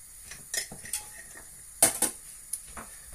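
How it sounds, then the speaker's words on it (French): A spoon mixing chocolate cake batter in a bowl, giving several sharp clinks and scrapes against the bowl at irregular intervals, close and fairly quiet. "Et vous mélangez."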